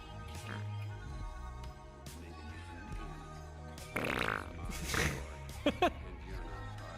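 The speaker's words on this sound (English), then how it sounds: "See if I can add some fart sounds into this and make this funny." Several fart sound effects are dubbed in as a comedy edit, loud blurting bursts near the end that rise above a continuous bed of background audio.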